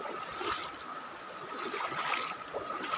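A boat crosses a river with a steady wash of water and engine noise, a continuous rushing hiss with a faint tonal hum running underneath, loud and close throughout.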